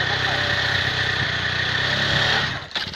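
A Honda MSX motorcycle engine idles with a steady close rumble, then revs briefly near the end before dropping off.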